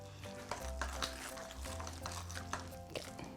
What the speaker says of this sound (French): OK, donc je vais mélanger ça comme il faut.